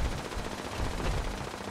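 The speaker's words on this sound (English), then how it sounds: "Just constantly hearing gunshots going off over there." Dense, rapid gunfire crackles continuously at a moderate distance in the video game Fallout 76, a steady stream of shots with no pauses.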